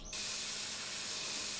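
Spray painting a car in My Summer Car, a continuous loud hiss of aerosol paint that starts abruptly and holds steady for over a second.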